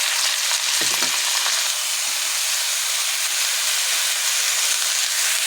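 Curry leaves sizzle in hot oil while egg noodles are being made, giving a loud, continuous hissing crackle close by. One low thump from the pan comes early.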